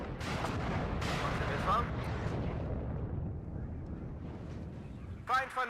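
Enemy artillery fire in the WARNO wargame rumbles as dense, sustained low booms and blasts, with a sharper burst of impacts near the end and a voice speaking over the barrage.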